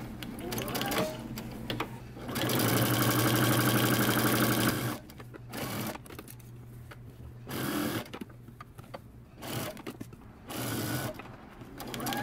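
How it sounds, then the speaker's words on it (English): A sewing machine stitches a shirt cuff seam in steady bursts of rapid mechanical stitching, with a long continuous run in the middle and shorter stop-start back-stitch passes after. "take this over to your sewing machine and you want to stitch it down"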